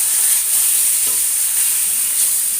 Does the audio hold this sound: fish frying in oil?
yes